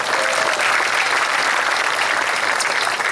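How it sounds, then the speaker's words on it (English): Sustained applause from a crowd at a school varsity awards ceremony honoring the girls soccer team, a dense continuous wash of clapping holding steady and loud from start to finish. "One more round of applause for our girls soccer team."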